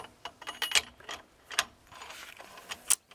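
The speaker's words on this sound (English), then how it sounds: "let's slide the suppressor on there for you." A suppressor slid and threaded onto an AR rifle, giving a series of close, crisp metallic clicks and scrapes in irregular bursts, with no talking.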